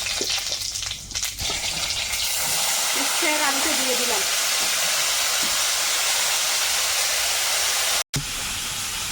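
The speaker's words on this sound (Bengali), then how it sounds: "একটু গোটা জিরে তেলে দেবো" Whole cumin seeds hit hot oil in a wok and sizzle in a loud, continuous, close hiss that runs for about nine seconds, with a faint voice briefly audible beneath it.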